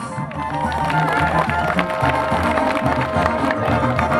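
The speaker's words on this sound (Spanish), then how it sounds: "un fuerte aplauso para él" Crowd applause for Doctor Milán Rosete at a jaripeo in Buenavista, Guerrero, a dense continuous clapping with some cheering, loud and close, with music or band sound mixed underneath.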